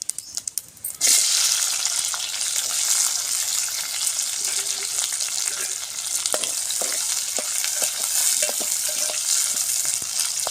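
Cumin seeds dropped into hot oil burst into a loud, sudden sizzle that stays steady and crackling, with scattered sharp pops, close to the listener.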